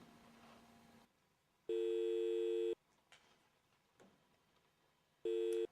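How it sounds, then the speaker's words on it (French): A phone line rings with a long electronic tone during a board game, falls quiet for a few seconds, then starts a second ring; no one speaks. "Alors, j'entends la sonnerie."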